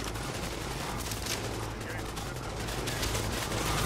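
Rapid gunfire bursts in the video game Tom Clancy's The Division, dense and continuous with scattered shots layered over a steady roar, holding a constant loud level throughout and without any clear speech.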